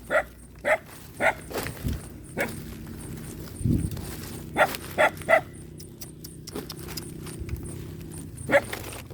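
Dog barking outdoors in rural Laos or Thailand, a run of sharp, evenly spaced barks followed by a pause and another burst, moderately distant over faint background rumble.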